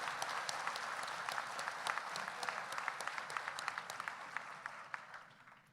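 Audience applause at a 2019 graduation ceremony, a dense sustained wash of many hands clapping at moderate distance that fades out over the last second.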